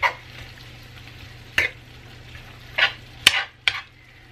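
Carne con papas cooking in a pan, with a faint background sizzle and a few sharp scraping clatters from stirring, spaced irregularly over a few seconds.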